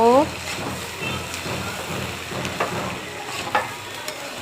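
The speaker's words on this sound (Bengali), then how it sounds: "এখন চালটা দিয়ে দিয়েছি। এখন 10 মিনিট ভেজে নিব।" Rice frying in a hot pan for pulao, with a steady low sizzle broken by stirring scrapes and occasional utensil knocks close by.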